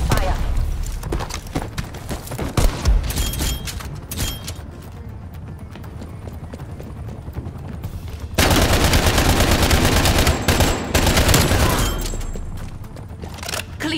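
EM2 rifle gunfire in a video game comes as loud, close bursts of rapid shots amid game sound effects, with a dense sustained stretch of firing in the second half and brief game voice lines.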